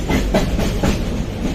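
A passenger train at Dhaka Airport railway station, heading for Chittagong, rolls along with a loud, close rhythmic clickety-clack of wheels over rail joints, repeating evenly under a constant rumble.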